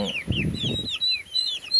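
Heritage chicks and month-old young turkeys chirp and peep in quick, high repeated calls, with a brief burst of lower rustling or scratching early on; close and moderately loud.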